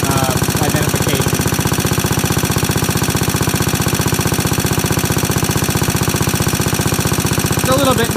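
Antique Onan 101 electric plant engine running close and loud, a fast, steady, rough chugging with a noisy exhaust that holds an even rhythm throughout.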